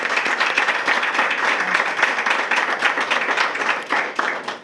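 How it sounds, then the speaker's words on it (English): An audience at a high school stole ceremony gives students another round of applause, dense and fairly loud clapping from many people that holds steady for several seconds with slight swells. "Another round of applause for them."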